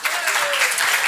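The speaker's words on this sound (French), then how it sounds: "on peut l'applaudir" A conference audience claps in a brief, dense burst of applause, with a voice briefly audible over it.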